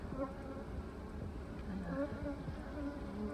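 Honeybees buzz around a hive brood frame, a dense, wavering drone of many wings with individual bees humming close by.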